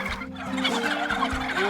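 Free-range turkeys on a farm, raised for market before Thanksgiving, gobble in a dense, overlapping chorus that fills the whole stretch, close and loud with no talk.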